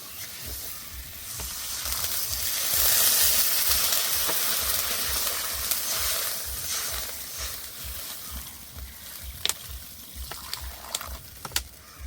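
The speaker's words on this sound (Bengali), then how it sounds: "আলুগুলো খুব সুন্দর করে কষে নিয়েছি, এবার জল দিয়ে দেবো" Water poured into a hot pan of sautéed potatoes for a Bengali pangas fish curry with winter onion stalks, producing a loud hissing sizzle that swells early and then settles into steady frying crackle with a few sharp pops.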